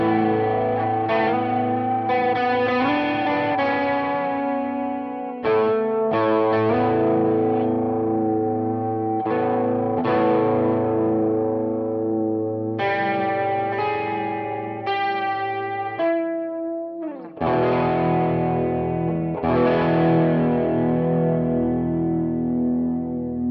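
An electric guitar runs through an Ibanez Bi-Mode Chorus pedal with both speeds slow, one width high and the other low, strumming chords and picked notes that shimmer and sway, loud and close.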